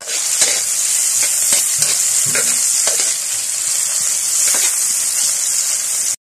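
Ampalaya, or bitter gourd, sizzles loudly in a hot pan while a utensil stirs it, a steady bright frying hiss broken by scraping and clinking strokes throughout.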